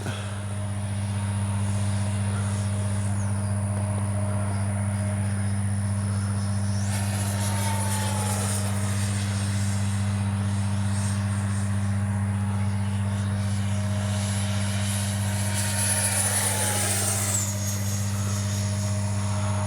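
An Arrows 50mm Avanti S electric ducted-fan RC jet flies overhead, a steady loud high whine with a low hum beneath, its pitch shifting as it passes through a flip and swoops by.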